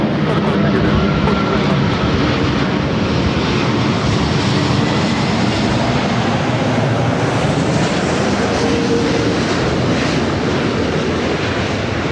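An Airbus airliner on short final to runway 24 right at Los Angeles LAX roars steadily and loudly throughout, a broad, sustained engine rush with no break.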